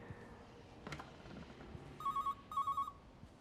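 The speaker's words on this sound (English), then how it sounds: "That's an odd ring for a phone." In the game Everybody's Gone to the Rapture, an old telephone gives two short bursts of a trilling electronic ring, quiet and slightly distant, after a soft thud.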